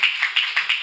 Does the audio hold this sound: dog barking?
no